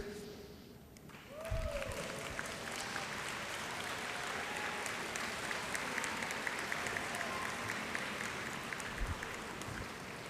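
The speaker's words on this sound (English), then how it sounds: "turn around and applaud your family and friends that have been supportive to each of you" A large commencement audience breaks into sustained applause after a brief quiet moment, the clapping dense and steady as it continues at a distance.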